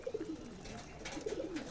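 Pigeons coo twice, one bout near the start and another near the end, each a soft run of low, rolling notes over a steady room hiss; no one speaks.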